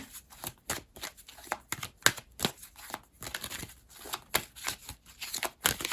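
Soul Journey oracle cards being shuffled by hand, a continuous run of close, rapid papery riffles and flutters with brief pauses between bursts.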